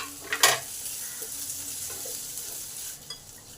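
Fried onions and capsicum tipped into a hot pan of chilli chicken, with a brief clatter and burst of sizzling followed by a steady soft frying hiss, close by.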